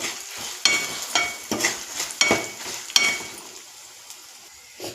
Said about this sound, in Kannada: ಉಪ್ಪು ಹಾಕಿದ್ಮೇಲೆ ನೋಡಿ ಈ ಥರ ಫ್ರೈ ಮಾಡ್ಕೊಳ್ಳಿ